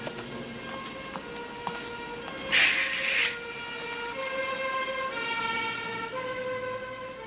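Fire engine siren passing along a city street: a steady, tonal wail sounds at moderate distance over faint traffic hum, with a short brighter burst of noise partway through and no talk.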